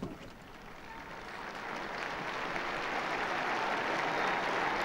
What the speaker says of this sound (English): And we hear the applause,